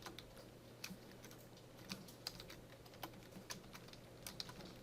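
Typing on a computer keyboard during a C++ programming lesson gives faint, irregular key clicks and taps over a steady low room hum, with no talking.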